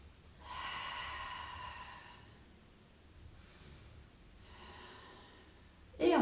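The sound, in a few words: breathing during a Pilates exercise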